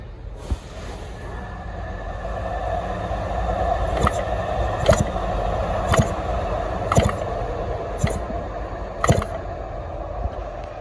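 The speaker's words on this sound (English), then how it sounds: "Now I'm gonna spin the flywheel by hand, and let's check and see if we have spark." Small engine flywheel spun by hand to check spark, a series of about six sharp ticking snaps at roughly one-second intervals over a steady background hum, with no talking.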